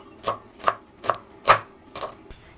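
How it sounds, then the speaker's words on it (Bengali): Knife chopping through an onion on a board, five or six evenly spaced crisp cuts, close and clear with quiet gaps between. "রেসিপির জন্য ফার্স্ট পেঁয়াজ কেটে নেব।"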